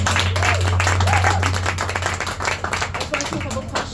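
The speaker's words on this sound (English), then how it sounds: "One more round of applause for this poet." Clapping from an audience honouring a poet at a spoken-word showcase, dense and steady over a low hum, with a voice talking over it as it thins out.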